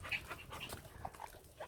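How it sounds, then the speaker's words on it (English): A dog whimpering and panting nearby, with soft breathy pants and small high whines in quick, uneven succession. "He'll always start barking, then everyone will start barking."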